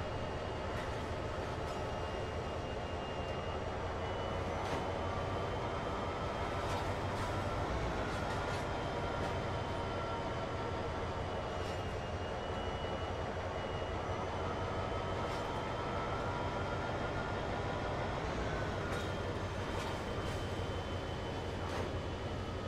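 A video game train in Train Sim World rumbles along continuously with a heavy low drone and occasional clanks and squeals, steady and close for the whole stretch.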